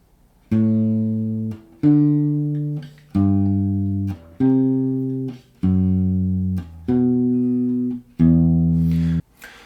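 A song played as a guitar chord melody in shell voicings, with bass notes moving in fifths: seven evenly spaced chords, each struck cleanly and left ringing for about a second, loud and close.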